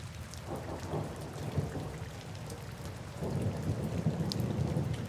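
Heavy rain pours steadily with a low rumble of thunder rolling underneath, the downpour swelling louder toward the end with no voices present.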